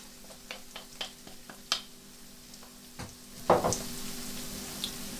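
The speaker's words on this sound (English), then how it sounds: "And we literally just drop them into the onions and the ginger." Spices dropped into a pan of frying onions and ginger for a vegetable curry, a few soft stirring taps followed by a sudden louder sizzle that keeps hissing steadily.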